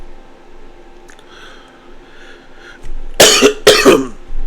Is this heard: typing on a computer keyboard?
no